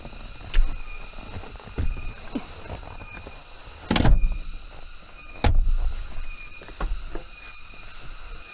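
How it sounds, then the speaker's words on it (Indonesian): Middle seat of a Ford Everest campervan folded down, giving several close, solid thuds and clunks spread out with softer mechanical rattles and clicks between them. "jadi caranya yang pertama ini adalah kita akan lipat jok tengah"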